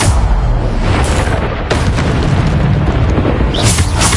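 Bombarda spell blast in the Hogwarts Legacy game, a loud, continuous roar of booming explosions with a sharp crack partway through, close and dense throughout.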